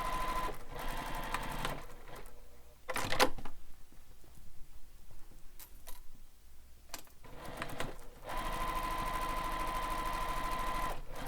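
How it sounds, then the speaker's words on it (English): Sewing machine top stitching across a fabric wallet, a steady loud mechanical whir running in long bursts with short pauses between passes. "top stitch all the way across"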